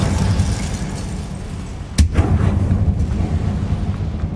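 The Incendio fire spell from the game Hogwarts Legacy: a dense, loud roaring blast with one sharp crack partway through, followed by continued rumbling bursts of flame.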